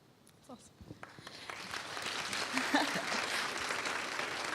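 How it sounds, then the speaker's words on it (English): Audience applause rising after a talk at a Q&A evening with Diane Guerrero, starting with a few scattered claps and swelling into steady, dense clapping from a large crowd that holds to the end. "It's like standard to wait for the clapping."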